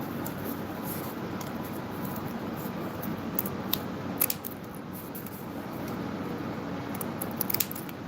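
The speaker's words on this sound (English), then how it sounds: "Let me see, scissors." Scissors cutting cardboard while building a model medieval water mill, quiet steady rasping snips with a few sharper clicks, close up and without speech.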